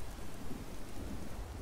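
Stormy weather in Skyrim, a steady wash of rain and low rumbling thunder rolling continuously, fairly loud and full, with no voices over it.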